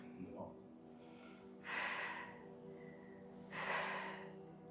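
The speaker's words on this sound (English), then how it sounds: "take 2 deep breaths" Two deep breaths drawn and released during a TRE tension-release exercise, each a long, close, airy rush of air with a quiet pause between them, with no other sound.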